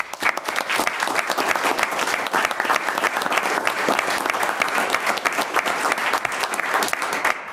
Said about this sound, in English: I would like to applaud our officers.